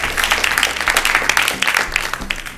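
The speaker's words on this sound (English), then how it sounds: "Round of applause for Roche." A studio audience at a game show breaks into applause, loud dense clapping from many hands close by, steady for a couple of seconds and easing slightly at the end.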